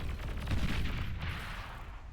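Energy converter exploding in the Beyond All Reason strategy game: a dense, rumbling blast with crackling gunfire-like bursts, loud and sustained, peaking briefly and then rolling on with no talk over it.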